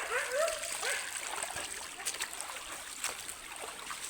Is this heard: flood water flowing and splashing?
yes